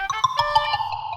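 A mobile phone ringtone chiming close by, a quick melodic run of bright electronic tones lasting about a second with no talk over it.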